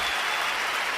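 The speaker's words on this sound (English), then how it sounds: "let's give a round of applause for that" Steady applause from an audience fills the whole second, a dense even wash of clapping with no voices over it.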